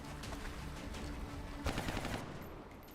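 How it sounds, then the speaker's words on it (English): XCOM Long War gunfire aimed at a red-armored muton elite alien: a short, sharp burst of rapid shots cracks out mid-clip over a dense, steady game background, with no voices. "That was a precision shot and it didn't crit."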